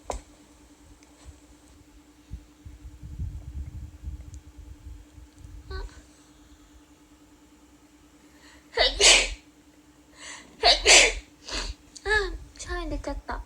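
After a quiet stretch with soft speech, a woman lets out a rapid series of close sneezes and sneezy gasps, several sharp bursts in quick succession.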